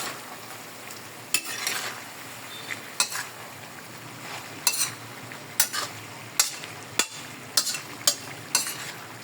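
Beef adobo with a little pork fat sizzles steadily in a pan while a utensil scrapes and stirs, giving sharp, fairly regular clinks and scrapes every second or so over the constant frying hiss.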